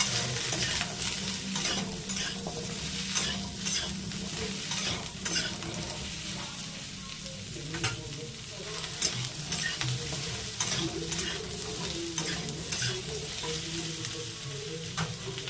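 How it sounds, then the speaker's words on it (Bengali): Potatoes, green papaya, drumsticks and raw banana dusted with turmeric fry in oil in a kadai for shukto, with a steady sizzle broken by repeated scraping stirs throughout. "শক্তর সবজিগুলোতে অল্প করে একটু হলুদ গুঁড়ো দিয়েছি, দিয়ে ভাজছি।"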